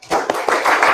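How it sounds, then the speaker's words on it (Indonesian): Brief burst of classroom clapping for a pupil, a short flurry of quick claps lasting about a second. "tepuk tangan untuk Naura"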